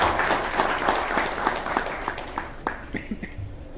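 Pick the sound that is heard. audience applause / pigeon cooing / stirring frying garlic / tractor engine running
audience applause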